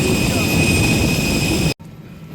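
Jet engines of an EasyJet airliner whine steadily beside the aircraft while passengers board directly from the apron, with a broad rumble under the high tones until the sound cuts off abruptly near the end.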